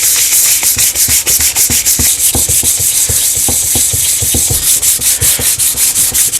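Steady back-and-forth rubbing of a sanding block over a brake caliper, fast rhythmic rasping strokes that continue for several seconds, loud and close with no talking.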